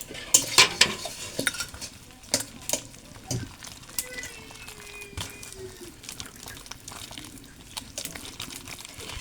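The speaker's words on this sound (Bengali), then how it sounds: "এর মধ্যে দিয়ে দেবো বেসন, দিয়ে দেব কাঁচা জিরে, সামান্য একটু জল দিয়ে সুন্দর করে ফেটিয়ে নিই" A spoon or whisk beats a batter of gram flour, cumin and a little water in a bowl, producing irregular clinks and wet scraping strokes, louder at the start then softer and intermittent.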